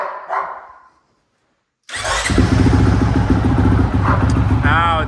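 A 2025 Honda CRF450X dirt bike with an FMF titanium exhaust and no plastics bursts into life after a brief talking voice and a moment of silence, then runs loud and close with a raspy, steady idle.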